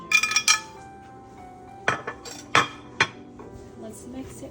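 Ingredients for salmon ceviche, white and green onions with ginger, are stirred in a bowl with a utensil, producing a few sharp clinks and clattering knocks in short bursts, close by with quiet gaps between.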